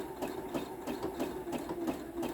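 A sewing machine runs a zigzag stitch along the edge of an oven mitt, a steady close mechanical whir with regular needle ticks and no talking.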